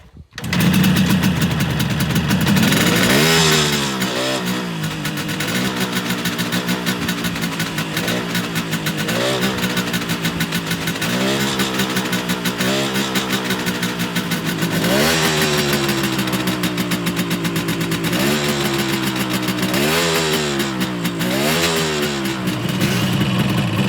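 A 1970 Kawasaki H1 500cc Mach III two-stroke motorcycle engine running loud and close, its idle rising and falling through repeated throttle revs with a raspy, buzzing tone.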